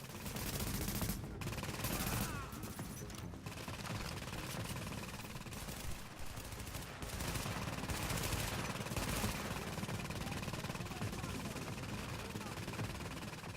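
Automatic gunfire from a boss in Tom Clancy's The Division on Xbox One, dense rattling bursts over continuous game noise, with a person talking over it.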